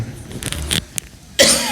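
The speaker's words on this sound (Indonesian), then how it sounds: "Batuk bahaya." A single sharp cough bursts in near the end, loud and close on a microphone at an Islamic study session, after a stretch of quieter muffled rustling and breath-like noises.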